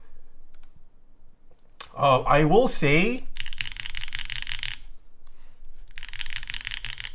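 Mode Sonnet prototype mechanical keyboard typed on in two bursts of fast, crisp clacking, close and clear, with someone speaking briefly just before the first burst.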